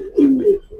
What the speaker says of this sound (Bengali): মাশাআল্লাহ, খুবই ভালো কবুতর